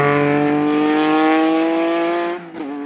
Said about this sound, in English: Their Stratos is purring and off they go, to the sound of the Ferrari V6 engine.